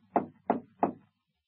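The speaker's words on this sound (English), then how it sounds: "he jumped onto the door knocker and swung back and forth on it." A door knocker struck three times in an even rhythm, each knock a solid, close thud followed by silence, used as a sound effect in a 1948 radio drama.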